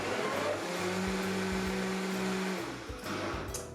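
A blender whirs steadily for about two seconds, blending papadum batter with cumin seeds, a loud motor hum that starts and then cuts off with no talking.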